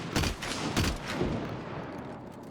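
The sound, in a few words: shotgun slug shots in the video game Hunt: Showdown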